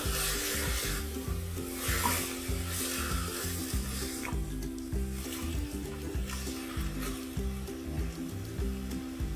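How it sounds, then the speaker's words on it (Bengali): Vegetable oats khichuri with green chilli, onion, garlic and chopped ginger being stirred in a pan, a steady soft sizzle with scraping and stirring strokes throughout, fairly quiet and close, with no talking. "আবার আমি কিছুক্ষণের জন্য সবকিছু একসাথে ভালো করে মিক্স করে দেব"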